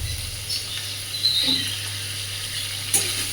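Kochur loti, taro stolons, fry in oil on a gas stove with a steady, low sizzle, a faint hum underneath and a couple of brief sharper pops.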